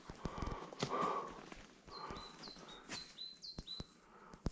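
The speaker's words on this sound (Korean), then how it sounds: "아, 새소리 좋네요." Birds sing along a steep mountain trail in Gayasan National Park: short, high, rising chirps repeat in quick succession, with footsteps crunching on the path close by.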